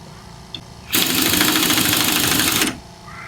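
A pneumatic impact wrench runs in one loud, close burst lasting almost two seconds, a dense rattling hammer with a hiss of air behind it, then cuts off sharply to quiet.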